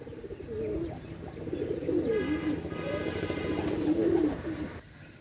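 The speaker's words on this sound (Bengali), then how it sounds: "একজোড়া গলায় লাল কবুতর, ডাইন সাইডটা নর, বাম সাইডটা মাদি" A pair of red-necked pigeons, a male and a female, coo softly and repeatedly up close, their low rolling calls overlapping in a steady, gentle rhythm.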